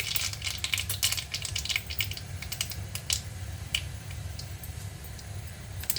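Rapid irregular crackles and pops of mustard seeds spluttering in hot oil, busy and close, with a low steady hum beneath.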